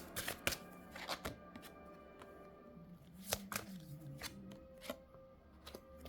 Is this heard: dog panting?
no